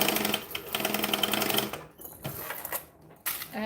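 A sewing machine stitching black thread while a bag is being sewn runs in a fast, steady mechanical patter, then stops and restarts in shorter bursts, close and fairly quiet.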